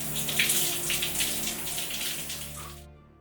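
Shower water runs steadily after a gym workout, a continuous hiss of spray with no one talking, cutting off abruptly near the end.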